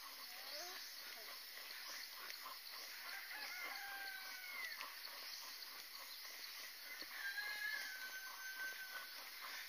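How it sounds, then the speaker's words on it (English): Chickens call and crow at a distance over a steady background hiss, with clucks and longer crowing calls scattered throughout. "Do you think chickens actually talk to each other across the roads"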